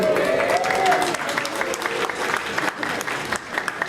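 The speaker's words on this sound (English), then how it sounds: "your applause may be premature" A crowd watching a large domino computer breaks into applause, a loud, busy spread of many clapping hands with a brief whistle early on. It continues for about four seconds and eases slightly toward the end.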